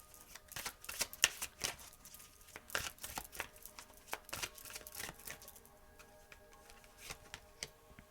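Tarot or oracle cards being shuffled close up, a steady run of crisp riffling flicks and soft taps with no one talking.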